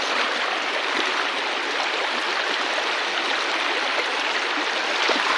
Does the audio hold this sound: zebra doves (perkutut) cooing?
no